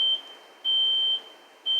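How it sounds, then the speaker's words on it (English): Three identical high-pitched electronic beeps at regular intervals, each lasting about half a second, over a faint background hiss. "I'm going to see where the beeping comes from"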